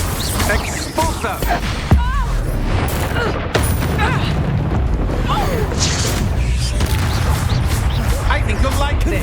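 Expulso spell blasts and other combat explosions in Hogwarts Legacy, sharp booms and crashes scattered over a busy battle with a voice talking throughout.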